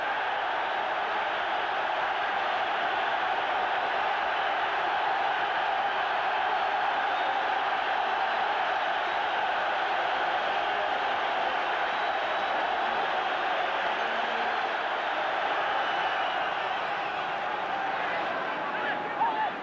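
A large football crowd roars continuously as the teams come out of the floodlit tunnel, a dense, steady wall of distant cheering that holds without a break.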